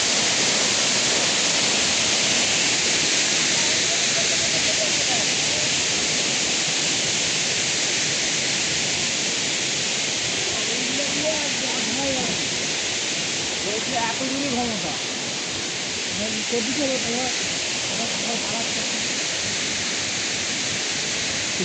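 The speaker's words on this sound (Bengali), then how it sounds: "ফলসের জল এভাবে পড়ছে" Water pouring down a falls on a hill picnic near Ajodhya Pahar, a loud, steady broadband rush that continues unbroken, with faint voices murmuring underneath.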